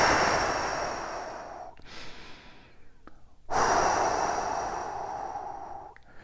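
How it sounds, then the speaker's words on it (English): Two long forceful exhales through the mouth, close and breathy, each fading gradually, with a short quieter pause between them. "you need to exhale relatively forcefully"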